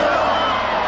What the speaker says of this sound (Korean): 북한의 무장공비 난파를 규탄하는 주민들의 함성이 대회장을 가득 메우고 있습니다